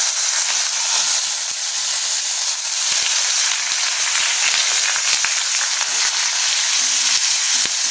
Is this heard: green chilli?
yes